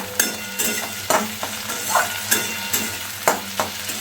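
Chopped tomato and chili sizzle in hot oil with golden-fried onions, loud and close, broken by regular scrapes and knocks of a spoon stirring the pan roughly every half second.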